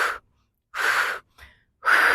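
Three forceful breaths blown out close to the microphone during glute bridge pulses, with a softer intake between them, in a steady workout rhythm with no speech.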